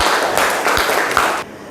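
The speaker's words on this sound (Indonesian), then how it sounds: "beri tepuk tangan untuk kita semua" A classroom of students claps together in a short burst of applause, loud and close, fading out abruptly.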